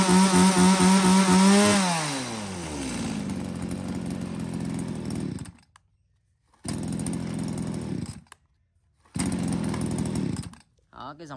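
An Echo top-handle chainsaw weighing about 5 kg with bar and chain runs loud and close, revving high then dropping to idle, cutting off in silence and restarting in two more roaring bursts.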